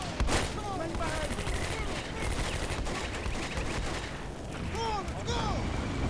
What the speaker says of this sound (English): Just few units are shooting.